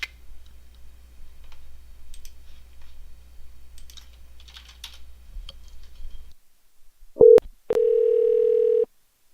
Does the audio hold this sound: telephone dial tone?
yes